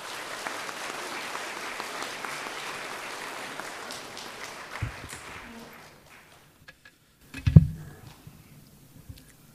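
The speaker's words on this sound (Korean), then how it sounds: "우리 한번 다 같이 박수로 한번 격려해 주시겠습니까?" Congregation applause at a Korean church Sunday service, moderate clapping that gradually fades out, followed by a brief thump near the microphone and near silence.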